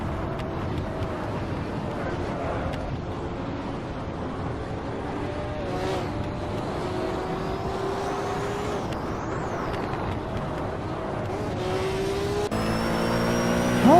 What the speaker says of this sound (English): Sure, my car has some decent top speed, but like, as it hits 180, which is more than even Bert can do